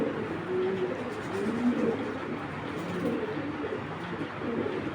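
Vaccinated racer pigeons, kept for sale, coo softly and continuously in low, murmuring tones against a steady background hum, with no talk over them.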